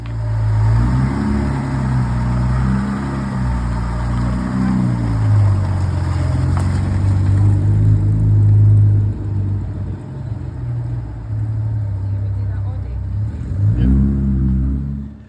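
A Jaguar E-Type's engine rumbles close and loud while driving, rising and falling with revs and gear changes before dropping to a quieter cruise and swelling again near the end.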